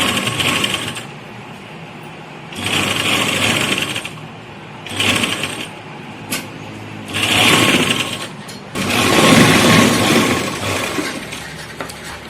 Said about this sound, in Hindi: इस पर भी हमने इक्वल सिलाई ही लगानी है।